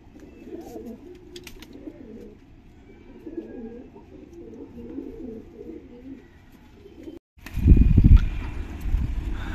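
Madrasi pigeons coo in soft, repeated low throaty calls nearby, followed by a louder burst of fluttering and rustling close to the microphone.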